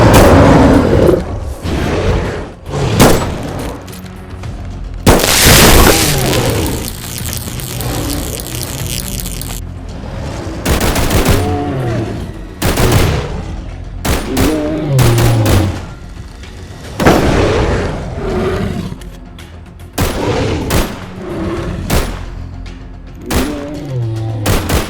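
A heavily recoiling gun fires in a Bigfoot survival game, loud booming shots spaced irregularly across the stretch, some in quick pairs, each a sharp blast with a rumbling tail, alongside thumps and movement noise.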